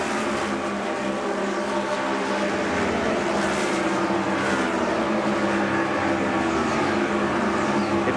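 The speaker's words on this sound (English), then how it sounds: "These cars look so fast around this speedway." IRL race cars roar around a speedway in a 1997 Charlotte race, a dense, continuous engine drone at full speed with no break and no talk.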